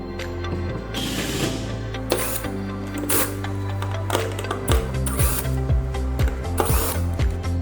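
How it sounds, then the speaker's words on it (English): A power screwdriver backing screws out of a module on an LED poster display, a close whirring motor with rising and falling pitch, then quick repeated clicks and brief buzzes. "Remove the screws of the module."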